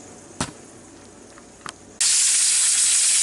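After a few faint clicks, a pressure cooker cooking beef short ribs starts a loud, steady hiss of escaping steam that continues without a break, close and harsh.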